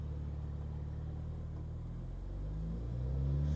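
A BMW G80 M3 rolls slowly through a neighborhood, its engine a low, steady rumble that swells slightly near the end. No voices are heard.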